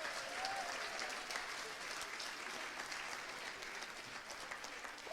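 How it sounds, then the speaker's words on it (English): Wedding guests give a big round of applause during the speeches, a sustained, even patter of many hands clapping throughout, moderately distant and steady. "big round of applause to them guys today, please"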